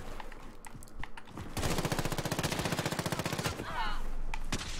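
Automatic gunfire in the Warzone video game rattles in a rapid, loud burst lasting a couple of seconds, with scattered single shots around it and players talking in the background.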